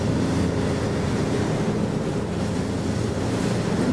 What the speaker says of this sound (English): And some of these waves are kinda big.